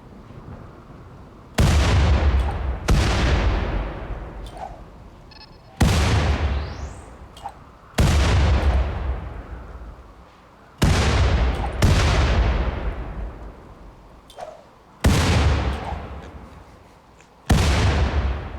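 Grenade explosions and gunfire in the RimWorld video game, a series of about eight heavy booming blasts spaced a couple of seconds apart, each loud and close with a long decaying rumble.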